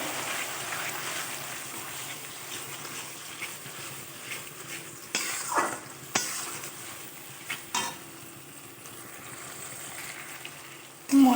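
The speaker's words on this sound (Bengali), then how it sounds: "এবার এখানে টমেটো আর কাঁচা লঙ্কা যে পাকা লঙ্কার পেস্টটাও দিয়ে দিলাম দিয়ে ভালো করে কষিয়ে নেবো" Spice paste with yogurt, tomato, green chili and red chili paste frying in a pan for chicken kosha, a steady close sizzle with several sharp scrapes and clanks of a spoon stirring through it.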